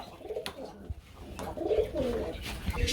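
Pigeons cooing at a busy Bangladeshi bird market, soft throaty coos rising and falling over a murmur of background crowd noise.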